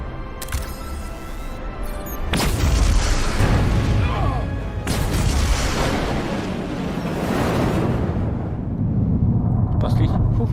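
An in-game detonation in the Star Trek Resurgence video game: several loud, booming blasts and bursts spread over about ten seconds, with rumbling debris and sustained roar between impacts, and voices talking over the action.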